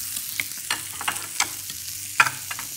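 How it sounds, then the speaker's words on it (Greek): Chopped egg being stirred into a potato salad, with soft, close, irregular scraping and clicking strokes of a utensil against the bowl, several distinct taps scattered over a few seconds. "Δηλαδή, ψιλοκόψτε το και ανακατέψτε το να πάει παντού."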